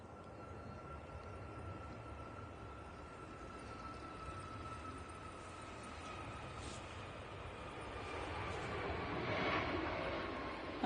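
A Tui airliner passes at Manchester Airport as a faint, distant broadband jet roar, swelling gradually louder toward the end.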